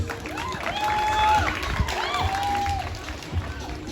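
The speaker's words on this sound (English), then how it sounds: "Give them a big round of applause." Campus open day audience applauds the Tuvalu student group, a moderate, steady patter of clapping with tonal whistle-like sounds and faint voices mixed in.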